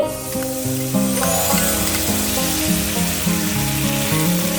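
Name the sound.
stirring spices and tomato paste frying in pan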